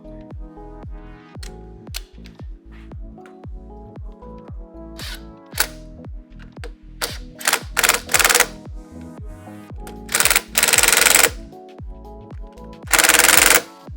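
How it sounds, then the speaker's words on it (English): A wrench snugs a 10 mm bolt on the brake caliper of a Hurricane 200 Pro motorcycle, producing rapid, close ratcheting clicks in quick bursts, with a few louder clanks and scrapes later on. "let me tighten up that brake caliper with a"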